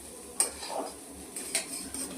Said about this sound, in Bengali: স্যুপ তৈরি হচ্ছে, সবজি ভাজা চলছেন।